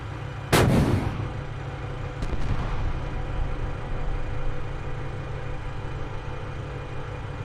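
A tank gun or artillery round fires in the wargame Flashpoint Campaigns: one sharp, loud blast, then a rumbling tail and a fainter second report over a low engine drone.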